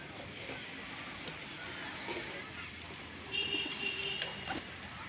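Pigeons on a rooftop give soft cooing calls against steady outdoor background noise, with a brief burst of louder activity near the end.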